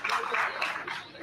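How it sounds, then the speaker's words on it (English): Audience applause at a press conference, with clapping from the crowd including a group seated at the back, a dense steady burst of claps lasting about a second. "Give yourself a round of applause."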